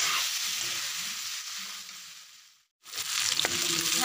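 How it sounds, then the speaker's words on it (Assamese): Duck meat fries in its own rendered fat for a traditional Assamese duck curry. A close sizzle fades to a brief silence, then returns with stirring clatter. "এয়া মাংসখিনি মই এনেকৈ ভাজি লওঁ"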